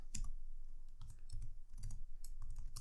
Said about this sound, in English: So let's start by typing in